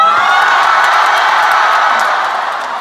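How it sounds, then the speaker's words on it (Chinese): A concert crowd roars with applause and cheering, loud whoops and shouts rising over a dense, continuous wash of clapping that tapers slightly at the end. "大家热烈的掌声再欢迎一下，好不好？"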